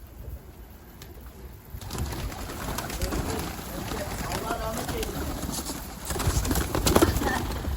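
Pigeons on a rooftop coo and shuffle at close range, rising in level partway through, with people talking over them.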